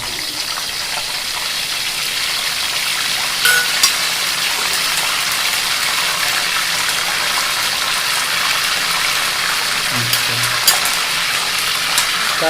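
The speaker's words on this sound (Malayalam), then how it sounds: "അപ്പോൾ കറിവേപ്പില ആയതിന് ഇട്ട് കൊടുക്കാം." Curry leaves dropped into hot coconut oil in a pan for Kerala chicken curry, giving a dense, steady hiss of frying that fills the whole stretch, with a couple of brief pops and spits and no talking.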